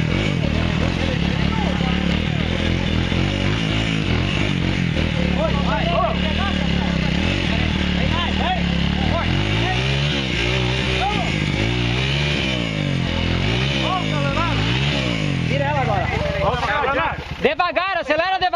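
Trail motorcycles rev and accelerate on a dirt trail ride in Cruzeiro do Sul, engines loud and close with rising and falling pitch, while people talk over the din.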